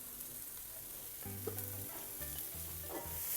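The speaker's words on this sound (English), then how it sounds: "Mix them up" Salt and pepper shrimp being tossed with chopped spring onion in a wok with the flame off, heard as a quiet sizzle under several clanking, scraping stirs of the spatula, close and without speech.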